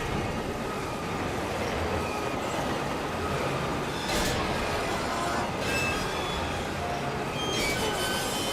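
A train rumbling along in the animated Superman series, a dense continuous roar with rhythmic rail clatter and faint metallic squeals, loud and steady throughout.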